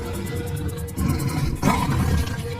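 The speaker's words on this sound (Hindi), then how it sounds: "गोलू जानवर की दहाड़ को कोसों दूर से सुनकर महसूस कर सकता था।" A cartoon tiger gives a deep, rumbling roar that swells in two loud bursts, close and filling the short moment with no talk.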